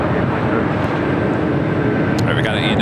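An Air Tahiti Nui airliner at LAX produces a steady, broad engine rumble, close and loud, with a thin tonal whine and a brief high squeal near the end; a voice talks over it.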